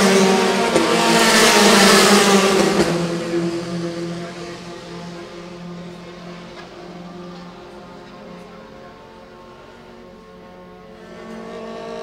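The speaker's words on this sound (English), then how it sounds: "Shivan of Thailand coming around the last corner, turn 18." Formula 4 single-seater race cars at a Southeast Asia championship circuit, a loud high-pitched engine scream rising as a car passes close, then fading into a steadier, more distant whine down the long straight.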